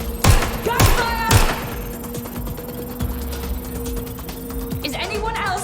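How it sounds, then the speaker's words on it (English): Three loud, evenly spaced gunshots early on in the video game Watch Dogs: Legion, then a quieter stretch of game ambience before a voice speaks at the end. "Gunfire!"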